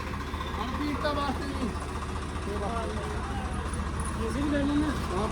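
A tractor engine runs at a steady low idle with a constant throbbing rumble, while people talk over it nearby during flood relief work in Mander Kalan village, Punjab.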